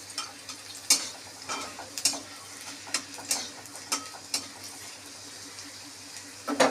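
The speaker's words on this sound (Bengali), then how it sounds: "সব কিছুই লাল লাল করে ভেজে নিতে হবে" Ingredients frying in a pan over a lowered gas flame, a soft steady sizzle with regular clinks and scrapes of a spatula stirring, close and fairly quiet.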